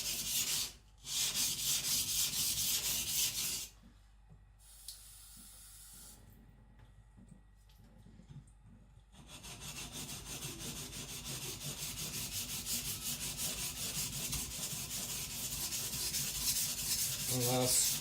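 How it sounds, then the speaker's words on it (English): A custom Patrik Carlvik nakiri knife ground on a coarse 220 whetstone, long gritty rasping strokes that stop for a few seconds in the middle, then resume in a steady scraping rhythm. "I need to create the edge on a 220 stone."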